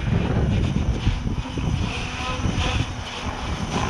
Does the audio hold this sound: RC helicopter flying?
yes